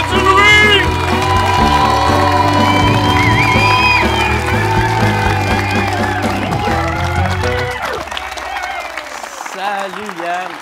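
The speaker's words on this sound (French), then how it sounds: "j'aimerais ça qu'on l'accueille puis qu'on commence les applaudissements" A studio audience at a French-language comedy talk show claps and cheers loudly for an arriving guest under music, the noise fading toward the end as voices begin talking.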